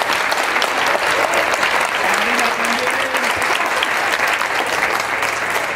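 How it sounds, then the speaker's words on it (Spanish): Audience applause at a book fair presentation, loud and sustained, a dense, even roar of many hands clapping throughout with a faint voice briefly under it. "fuerte ese aplauso, porque se lo merece"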